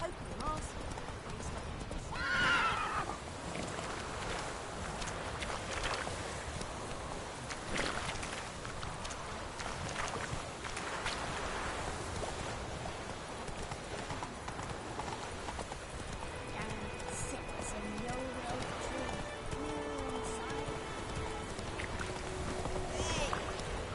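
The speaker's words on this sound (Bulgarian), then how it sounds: "Рипай на коня." A horse in a Warzone video game gallops with steady clip-clop hoofbeats and gives a clear neigh early on, with players talking over it throughout.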